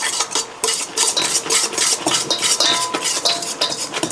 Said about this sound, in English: I'm going to whisk it again really good, just to get the powder off the sides and stuff.